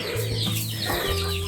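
Chickens on a rural farm in the Philippines cluck close by in quick, overlapping calls, with a rooster-like crow mixed in over a steady outdoor background.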